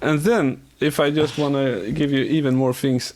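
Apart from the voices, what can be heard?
No everyday noises stand out.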